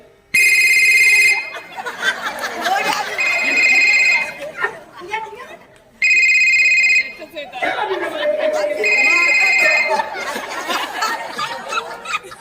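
A telephone rings in loud repeated bursts during a live Konkani tiatr stage show, two long ringing spells separated by a pause, with audience chatter and laughter between and under the rings.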